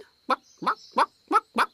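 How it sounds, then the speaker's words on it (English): Five short, evenly spaced bird calls from a chicken conjured by magic in a cartoon fairy kingdom, each a brief clucking burst about every third of a second, fairly close, with a faint steady tone behind them. "That's not my chicken."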